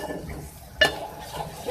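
Beef frying with yogurt and spices in a pan, a low sizzle under a single sharp clink of a spoon against the pan, with softer scraping stirs around it.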